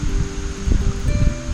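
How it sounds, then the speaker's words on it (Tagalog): Strong wind gusting at an outdoor campsite, a steady rushing and rustling texture with low buffeting rumble, fairly close and continuous with no voices. "Napalakas ng hangin dito."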